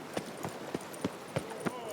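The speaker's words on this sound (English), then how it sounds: "get on a horse and start wailing it through the deep dark forests of The Witcher 3" A horse gallops in The Witcher 3, with evenly spaced, hollow hoof clip-clops, about six beats in two seconds, fairly close and moderately quiet over a soft background hiss.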